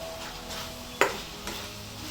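Cut coconut pieces frying in a pan for a village-style country chicken curry make a soft sizzle, with one sharp metallic clink of a utensil against the pan partway through and a lighter scrape after.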